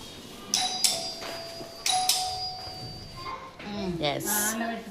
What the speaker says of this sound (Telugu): ఇదే కాలింగ్ బెల్ ప్లీజ్.